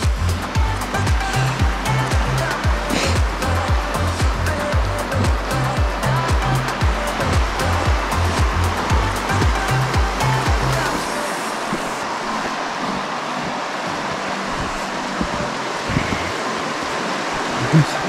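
Icy glacial meltwater of the Yumthang River in North Sikkim rushes loudly as a steady broadband roar, with a rhythmic low thumping during the first eleven seconds before the flow continues alone.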